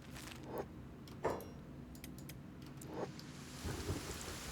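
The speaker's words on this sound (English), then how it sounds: "We are in the acid rain." Acid rain falls steadily in the game Kenshi, a soft continuous patter with a few low thunder rumbles rolling in faintly beneath it and no voices.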